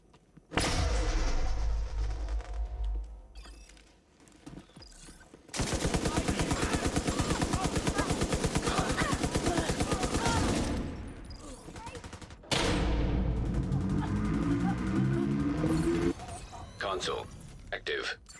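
Video game gunfire in long sustained automatic bursts, separated by short pauses and mechanical clicks, loud and close throughout.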